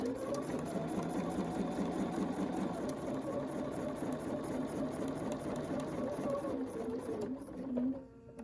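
A sewing machine quilts along the edge of a curvy quilting ruler, running in a steady, continuous rapid stitching hum at close range that slows and stops near the end.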